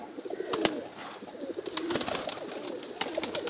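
A lakhi pigeon coos on a village rooftop, soft repeated throaty calls close by, mixed with sharp chirps and light rustling against a faint outdoor background.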